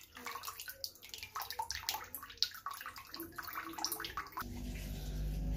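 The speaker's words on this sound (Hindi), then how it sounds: "अब इसको आराम से इस तरह पानी भी इसका रिमूव कर देंगे" Water from boiled eggplant pours and splashes as it is drained off, a close, irregular watery rush ending in a steadier flow, with no talk.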